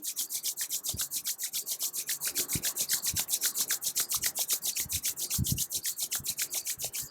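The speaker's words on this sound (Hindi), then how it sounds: "दोनों हथेलियों को आपस में रगड़ेंगे।" Both palms rub briskly together during pranayama practice, a close, dry swishing repeated in a fast, steady rhythm throughout, with a few faint soft knocks underneath.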